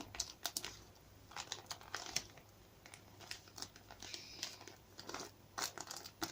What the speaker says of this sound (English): So I'm going to put the tape over the top as well.